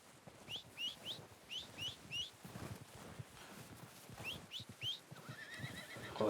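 Red Dead Redemption 2 video game horse: hoof clip-clops thud at an irregular pace, with several short, high whinnying neighs and bird-like chirps, faint, with no talking.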